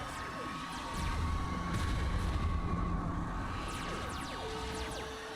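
Grenade blasts from the Darwinia video game, several dull booms thudding in a steady low rumble, with a rising tonal whine near the end.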